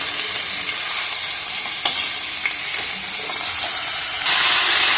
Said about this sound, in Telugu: ఇప్పుడు ఇలా కిందకి పైకి మొత్తం అంతా కలిపేసుకోవాలి